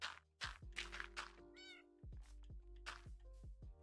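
A cat in the Minecraft video game meows amid busy game sounds, with repeated thuds of blocks being placed and a brief sparkly chime, all fairly close and at moderate volume.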